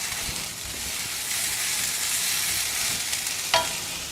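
Mint leaves sauté in a pan over low heat, giving a continuous bright, even sizzle with a single brief scrape near the end.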